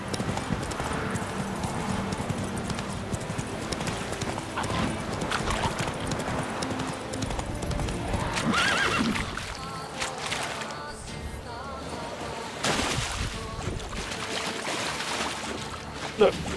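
Hooves of Roach, Geralt's horse in The Witcher 3, clip-clop steadily through a game world with splashing water and music, someone talking over much of it.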